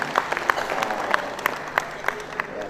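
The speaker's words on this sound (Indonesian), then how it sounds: "tepuk tangan semuanya." Audience applause at a gathering of PKK chairs from across West Java province, a short burst of scattered, uneven clapping with distinct individual claps rather than a dense roar, heard at moderate distance.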